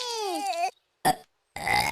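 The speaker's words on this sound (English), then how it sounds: "You burped." A single short baby burp lands between two stretches of a high, childlike voice speaking, close and clear, in the cartoon Peppa Pig.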